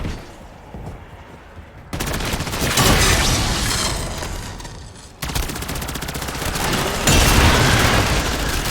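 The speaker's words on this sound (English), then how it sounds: "Oh, the friendly monk is also shooting at him." Gunfire in Call of Duty MWZ, a dense, loud run of rapid automatic shots and bursts with booming impacts that carries on nearly without pause across the stretch.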